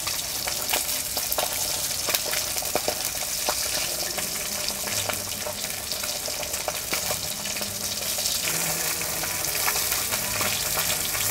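Fish from a three-kilogram glass cup fish sizzles and crackles steadily in hot oil, a continuous close frying hiss with occasional sharp pops and faint stirring or clinking.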